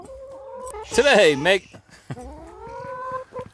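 Backyard chickens cluck and squawk in a loud burst near the start, with a voice talking over and around them.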